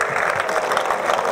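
An outdoor crowd at a PP party rally in the church plaza of San Pedro Alcántara claps in a dense, steady wash of applause that stays loud and even throughout.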